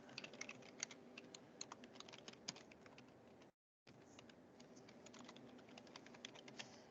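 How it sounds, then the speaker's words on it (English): Rapid, quiet clicking of keys on a computer keyboard as an email address is typed, steady close patter with a brief pause midway. "I can type in my email address"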